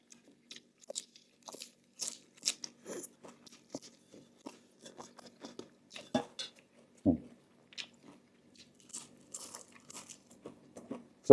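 Crisp, crunchy bites and chewing come through in close, irregular bursts, loud snaps between quieter chomps, while someone eats with no talking.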